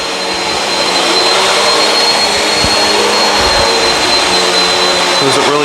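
A Bissell CleanView Swivel upright vacuum cleaner runs steadily while picking up bits of dirt, a loud, constant motor roar and airflow whoosh with a few faint knocks of debris, ending in a brief clatter near the close.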